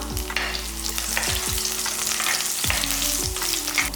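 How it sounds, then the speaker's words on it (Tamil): Ginger, garlic and curry leaves sizzle loudly in hot oil for a South Indian egg gravy, a dense, steady frying hiss close by, with recurring scraping strokes of a stirring spoon. "10 பல்லு பூண்டு எடுத்துருக்கேன், இதையும் போட்டுக்கலாம்."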